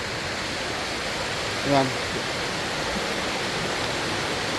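A strong river current runs as a constant, loud, even rush of water, with a brief spoken word in the middle.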